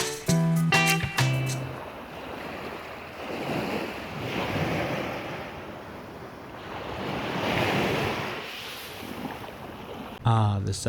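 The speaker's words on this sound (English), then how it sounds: "Ah, the sound of the ocean." Ocean surf rolls steadily onto a tropical beach in Penang, Malaysia, a broad washing roar swelling and easing under gusty wind noise, with a brief tonal sound at the start and end.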